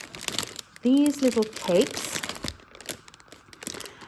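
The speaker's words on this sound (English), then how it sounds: "sorry about the rustling" Crinkly rustling of plastic food packaging around small almond or hazelnut cakes dipped in chocolate, close and fairly loud in short bursts, with a person talking over it.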